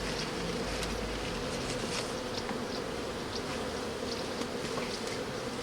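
Dense, steady buzzing hum of many honeybees close up on a hive frame, continuous and even throughout with no voices.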